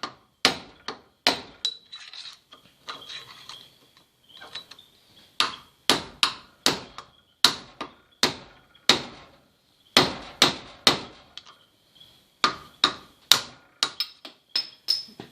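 A wheel bearing cone on a Massey Ferguson 240 tractor being knocked out with repeated sharp metallic hammer blows, struck in quick bursts with brief pauses, close and loud.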